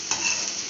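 Onions frying in a generous amount of oil, browning for a fish curry, give off a short, steady sizzle with a faint stir, close up and fairly quiet, without any voices.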